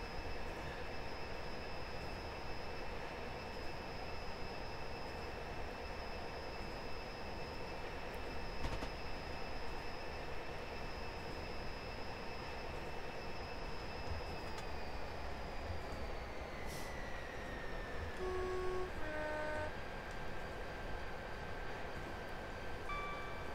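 A Class 59 diesel locomotive in Train Simulator 2022 on the Chatham Main and Medway Valley line, heard as a steady engine drone with sustained tonal hums that shift in pitch partway through, continuous and fairly loud.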